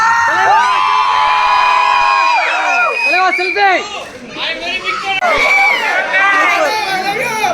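Cinema audience at a Bison screening at Kamala Cinemas cheers, whoops and shouts in a loud, excited hubbub, with overlapping high voices rising and falling throughout and a brief dip midway.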